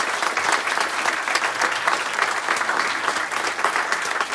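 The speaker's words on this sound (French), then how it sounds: "Et vous pouvez continuer à applaudir un peu plus, un peu plus, un peu plus." An audience at a comedy magic show applauds steadily, dense continuous clapping filling the room at an even, fairly loud level without letting up.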